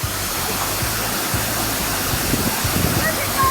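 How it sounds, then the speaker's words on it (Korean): A huge, powerful waterfall in the city of Nice pours a heavy, steady roar of water close by, with faint speech beneath the constant rush. "갑자기 이런 폭포가 갑자기 왜 나타나냐고"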